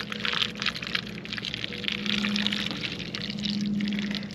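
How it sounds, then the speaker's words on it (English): Clean, unfiltered water pours steadily into a bottle on a trail, a continuous splashing gurgle that holds for the whole stretch, close by and fairly loud. "So I'm pouring the clean water in this bottle."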